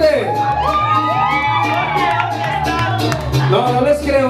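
Party crowd of women at a birthday celebration with a mariachi band, shouting and cheering loudly and continuously over steady rhythmic music, voices rising and overlapping in whoops throughout.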